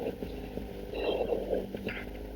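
A paramotor engine runs at a steady idle before takeoff, giving an even drone with light wind noise and a brief rise in pitch midway.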